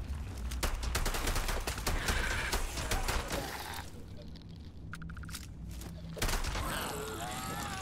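Rapid bursts of gunfire ring out in the video game Starfield, dense and loud at first, then a brief lull with a rising whine before firing picks up again, with a voice underneath.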